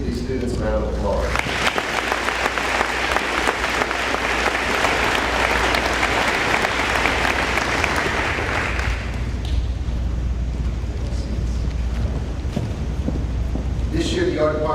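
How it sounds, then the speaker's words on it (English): An audience at a spring senior award ceremony claps for students, a dense, loud burst of applause that swells, holds for several seconds and then thins out to scattered claps. "Please give these students a round of applause."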